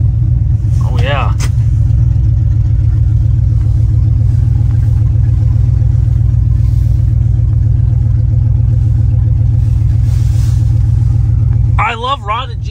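A cammed 6.2-litre GM Silverado truck engine idles loud and steady with a deep lumpy rumble, then revs sharply near the start and again at the end.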